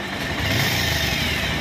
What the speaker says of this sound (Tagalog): Dahil nga nakatok yung makina eh.